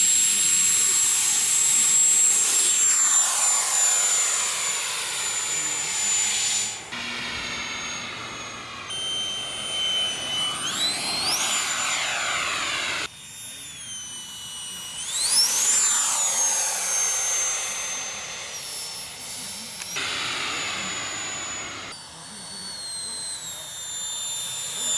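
A 3D-printed RC Harrier model jet whines loudly during a VTOL flight, its pitch rising and falling as the throttle changes, heard close up over a steady rushing roar.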